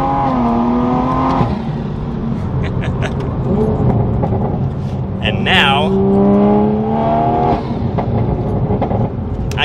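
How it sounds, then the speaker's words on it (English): A Toyota Supra engine revs and roars up through the gears, loud and close, with a person talking briefly over it. "The Supra is now sounding like a nice quality performance car"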